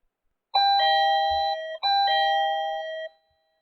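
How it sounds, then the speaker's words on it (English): A doorbell rings twice in succession, a clear two-tone electronic chime, loud and close, with nothing else around it. "He tried the doorbell again."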